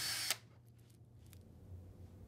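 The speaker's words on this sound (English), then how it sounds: "pre-drill a hole in the side wall with a 1/8 inch drill" A power drill with a 1/8 inch bit bores a pilot hole into a shower side wall, a loud whirring burst of about a third of a second that cuts off abruptly, leaving a quiet room hum.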